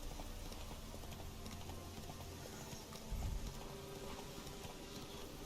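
Horse hooves clip-clopping in The Witcher 3 video game, faint repeated hoofbeats beneath a dense wash of background game ambience, with a brief low thump partway through.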